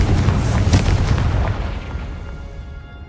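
The Confringo blasting spell explodes in Hogwarts Legacy with a heavy, booming blast that hits at once, swells briefly and then rolls off into a long fading rumble. No voices.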